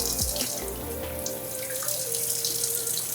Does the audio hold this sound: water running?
yes